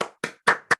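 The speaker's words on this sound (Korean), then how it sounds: "우리 박수로 한번 이렇게 반짝반짝 한번 합시다" A church congregation claps during a Pentecost Sunday service, four sharp, distinct bursts of hand claps in a quick, uneven rhythm, close and clear with no talking over them.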